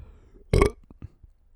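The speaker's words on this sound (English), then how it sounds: "gross coffee burp" A single short, loud burp after drinking coffee, followed by a few faint clicks and quiet mouth sounds in an otherwise quiet room.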